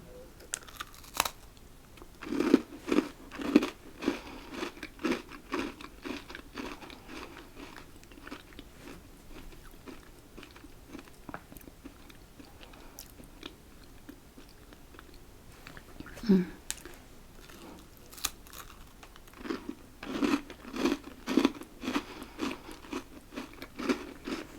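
White chocolate biscuits are bitten and chewed close up in quiet bursts of crunching, with soft mouth sounds and pauses between bites.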